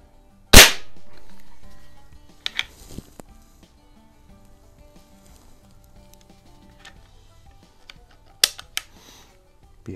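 A Crosman 180 .22 caliber CO2 pellet rifle fires a sharp, loud crack near the start, followed by a few quieter clicks and two more short snaps later, with near silence between.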